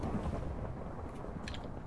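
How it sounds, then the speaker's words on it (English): A low, steady rumble of thunder rolls through a Minecraft Tornado Survival storm, faint and continuous with no talking. "I heard thunder."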